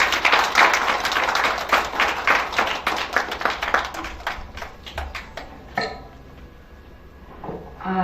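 An audience claps to welcome a guest at a Pragati Parivar gathering; loud, close, rapid clapping for about six seconds, then thinning to a few scattered claps before a brief resurgence.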